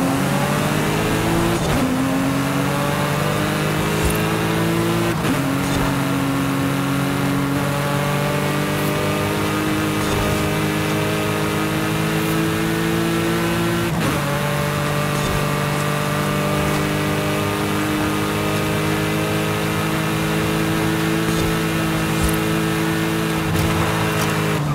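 Cars race in Forza Horizon 5 on the Mexico Goliath route, a continuous loud engine drone with rising revs and abrupt gear changes repeating throughout, and no speech.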